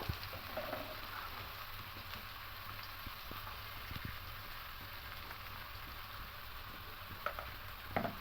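Chopped chili with a little salt fries gently in a pan, a soft, continuous crackling sizzle with scattered spatters and light stirring taps, fairly quiet and without talk.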